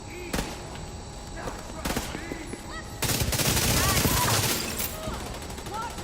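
Gunfire in The Division 2 shooter game: sharp isolated shots early on, then a heavier sustained volley, with people talking between and over the shooting.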